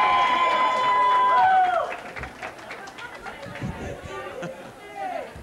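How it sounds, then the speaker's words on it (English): A bowling tournament crowd cheers and shouts loudly for a few seconds, then settles into scattered chatter and murmuring voices in a large hall. "As the crowd goes wild for the"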